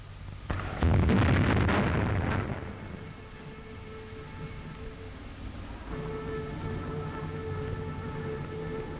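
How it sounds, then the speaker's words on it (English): A single deep cannon shot booms, rumbles for a couple of seconds and fades into a lingering low ambience with distant hum, in Paris. "A cannon shot announced the hour of 11"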